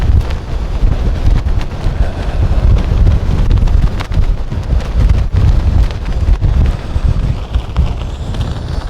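Strong gusting wind buffets the microphone during high-wind testing of one-person tents outdoors, a loud, continuous roar with surging, uneven blasts and no talking.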